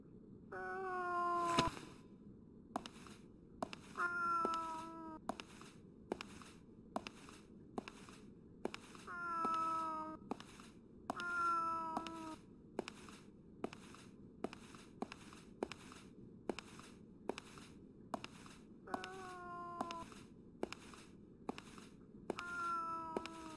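A cat in the video game Fragile Dreams meows in short bursts several times at irregular intervals, over a steady series of sharp, regular ticks and a low background hum.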